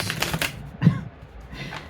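Cards from a deck being shuffled, quick papery riffles and flicks in short bursts with a soft thump in the middle, close and fairly quiet.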